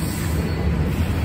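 A train engine draws near, a steady low rumble of rail noise holding constant and fairly loud across the short stretch, with no voices.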